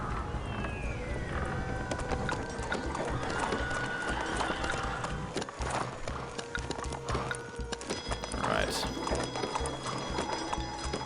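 Horse hooves clip-clop at a gallop in a historical Chinese strategy game, steady rhythmic beats running under dense game music and ambient effects, with a brief louder swell near the end.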